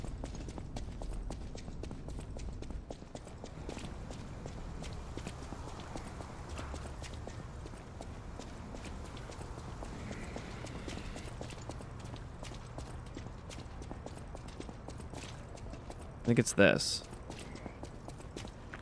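A donkey mini boss in the video game Lies of P clops its hooves in a steady rhythm throughout, under gameplay noise and a voice speaking, with a louder burst of impact near the end.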